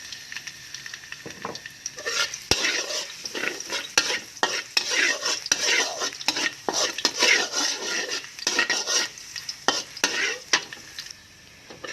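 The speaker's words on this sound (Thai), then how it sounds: "ตั้งน้ำมันให้ร้อนก็ใส่กระเทียมเลยค่ะ" Garlic fries in hot oil in a wok with a continuous crackling sizzle, while a metal spatula scrapes and clinks against the pan in an irregular stirring rhythm, close and alone.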